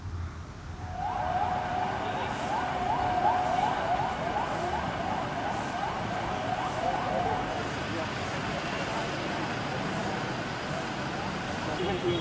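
Several ambulances travel in a convoy carrying factory workers from an electronics plant in Karawang, their sirens wailing steadily over traffic noise in a continuous rising and falling pattern across the stretch.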